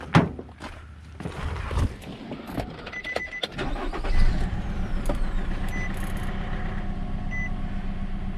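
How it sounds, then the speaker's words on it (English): A 2010 Nissan Rogue engine cranks and catches, then settles into a steady idle with a noticeable rattle and shaking, loud and close with no talk over it. "let's take this one for a test drive and see if we can start it up"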